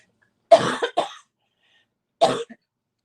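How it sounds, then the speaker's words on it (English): A person coughs in two bursts, a double cough followed after a pause by a single harsh cough, close and clear against silence. "I'm going to cough."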